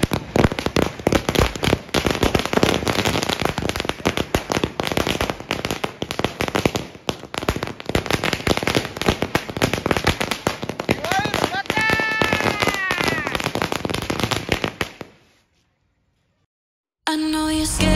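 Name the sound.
firecrackers being lit and exploding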